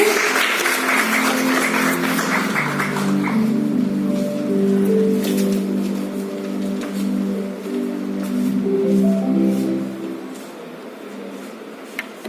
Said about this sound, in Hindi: और आई थिंक जोरदार तालियां सर के लिए।